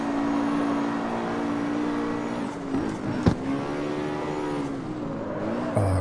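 A car engine hums and revs steadily during a race in the video game CarX Street, a continuous droning tone with gear shifts and slight pitch dips, plus a sharp transient midway.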